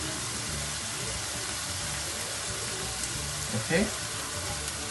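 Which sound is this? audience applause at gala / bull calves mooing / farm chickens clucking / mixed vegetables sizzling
mixed vegetables sizzling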